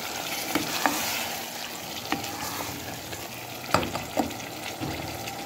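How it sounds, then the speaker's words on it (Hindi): Ridge gourd (turai) fries in cooked masala, with a steady soft sizzle and occasional light clinks and scrapes of a spoon stirring the pan, moderately quiet and close. "इसमें डाल दें तुरई और इनको भी 1 से 2 मिनट हम भून लेते हैं"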